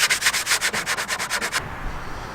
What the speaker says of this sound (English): just sanding it down to give it a smooth finish